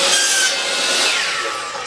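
Saw cutting wood for an acoustic panel frame, one continuous loud, bright rasping cut heard up close, with no talking.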